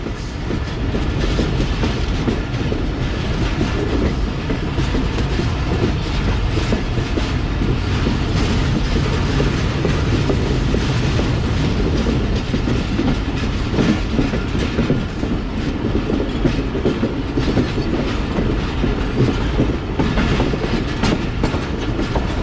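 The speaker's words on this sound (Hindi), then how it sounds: "और ट्रेन इतना ही स्लो चल रही है" A Pak Business Express train rolls slowly along the rails, with a steady, continuous rumble of wheels and carriages and a faint clickety-clack running loud and unbroken throughout, with no talk.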